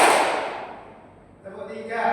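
A high-school class claps together in a counted clapping game, a single loud burst at the start that decays into quiet before a teacher's voice resumes.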